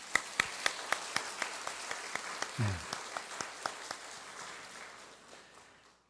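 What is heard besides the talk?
church congregation applause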